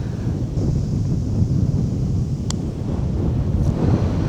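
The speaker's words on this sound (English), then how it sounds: "Plus the wind's in my face." Wind buffeting the microphone on a high-elevation golf course at Gypsum Creek, Colorado, a steady loud rumbling roar throughout with a faint tick or two over it.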